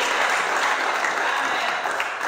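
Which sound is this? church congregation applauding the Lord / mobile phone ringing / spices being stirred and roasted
church congregation applauding the Lord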